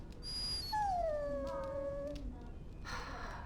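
A dog in the Dragon Age Origins video game lets out a single drawn-out whimper that slides downward in pitch, fairly soft over a low steady game ambience.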